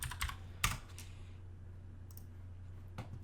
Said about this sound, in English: So I'm going to go here into the search and type in face.